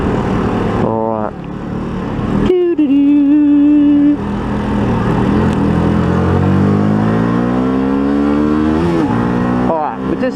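A Yamaha YZF-R125 motorcycle accelerates with a loud, rising engine whine that climbs steadily in pitch through the gears, with a brief drop between shifts, heard close and continuous throughout.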